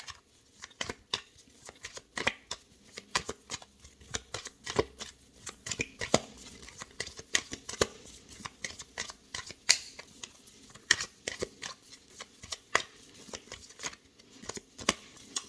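Tarot cards being shuffled and drawn during a new-moon reading, heard as a dense run of quick papery flicks, taps and riffles, close and fairly quiet, with no talk.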